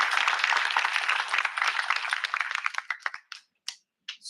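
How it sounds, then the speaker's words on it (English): Audience applause for student mentors at a university event, dense clapping that thins into a few scattered last claps and then stops, fairly close and without talk. "give a round of applause"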